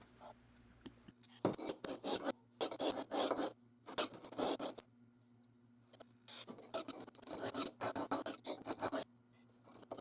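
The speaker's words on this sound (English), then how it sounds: "Our goal here is to get a rough edge on the entire length of the blade." A knife blade is drawn across the coarse side of a sharpening stone in repeated rasping strokes, close and distinct, with brief pauses between bursts of grinding.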